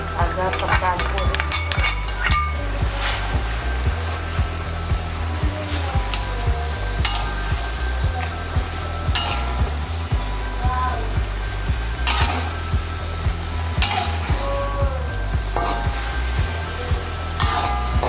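A spoon stirs a green chili sambal mixture in a sizzling pan for Padang-style sambal ijo, with steady scraping strokes over continuous frying hiss, close and fairly loud, with no talking.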